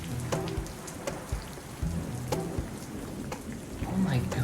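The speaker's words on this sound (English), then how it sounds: "Oh my god, it's raining cats and dogs." Steady rain patters on a surface, with scattered sharper drops and gusts over a soft continuous hiss, fairly quiet and without voices.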